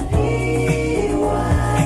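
A snippet of the original song plays, with lush sung chords and a steady rhythmic pulse over bass.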